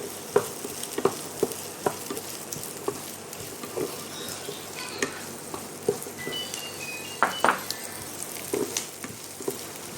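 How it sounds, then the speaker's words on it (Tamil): Chopped ingredients sauté lightly in a hot pan for a Tamil chicken dish, with a steady sizzle broken by irregular scraping stirs and clinks of a utensil, close and moderately loud, no talking. "எல்லாமே லைட்டாக வதக்கிக்கோங்க."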